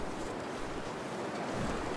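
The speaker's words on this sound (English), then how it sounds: "Jesus, it's windy." Strong wind in the snowy wilderness of the video game The Long Dark, a dense, steady roaring gust that fills the whole clip with no breaks.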